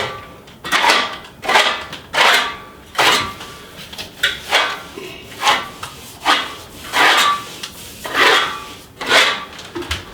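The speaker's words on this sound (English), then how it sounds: "You want to have enough material that you can actually trowel." A steel trowel spreads metallic suede faux finish across a wall in steady, rhythmic rasping strokes, about a dozen close passes with brief gaps between them.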